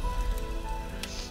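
Steady rainfall in the video game Fierce Tales, a dense, even patter of drops on a surface continuing throughout without pause, with a faint tone running underneath.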